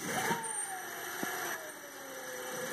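A car's worn gear reduction gives off a faint whining tone that slowly falls in pitch as it slows with regenerative braking on, over steady low road and motor noise.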